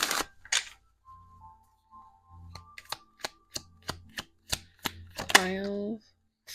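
A deck of tarot cards is shuffled by hand in a series of sharp, evenly spaced riffling snaps close to the ear, after a faint hum and brief rustling, ending in a louder flutter as the cards settle; no talking over it.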